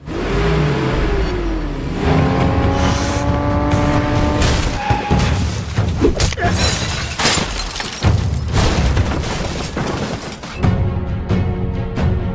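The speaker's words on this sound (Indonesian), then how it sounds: "Dengan kekuatannya, Wulin menghantam kaca depan mobil dan menghajar para penjahat di dalamnya." A car windshield is smashed during a fight scene in a kung fu action film, with a glass shatter rising out of a dense, loud mix of roaring engine, skidding tires and impacts.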